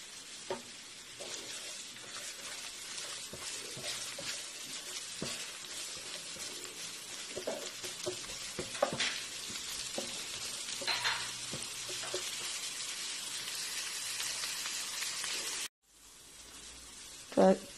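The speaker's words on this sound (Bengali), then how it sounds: "রসুন আর শুকনো মরিচটা একটু ব্রাউন হয়ে গেছে, আমি এখানে 1/2 পেঁয়াজ দিয়ে দিব।" Onion fries in a pan with browned garlic and dried chili, a continuous close sizzle with repeated scraping and clicking of a stirring utensil, briefly cutting off near the end before resuming.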